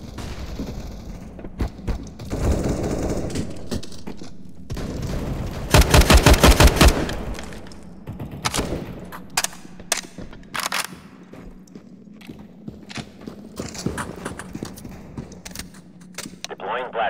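Rapid bursts of automatic gunfire and single loud shots ring out in Counter-Strike: Global Offensive, close and punchy with a dense volley midway, alongside in-game radio voices and scattered footsteps.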